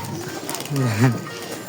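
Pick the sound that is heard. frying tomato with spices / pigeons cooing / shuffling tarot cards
pigeons cooing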